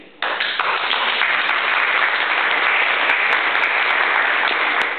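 Steady, dense applause from a civic association meeting audience starts abruptly and keeps going at an even, loud level, with a few sharp claps standing out.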